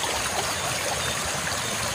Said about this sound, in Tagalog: Narinig nyo guys yung lagas-las ng tubig.